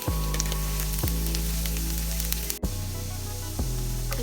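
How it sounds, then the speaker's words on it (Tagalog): Sliced garlic sautéing in a hot pan for Filipino ginisang sayote gives a steady, close crackling sizzle that runs throughout with no talk, broken only by a few brief low clunks. "pagpainit ng kawali at igisa natin yung hiniwa nating bawang"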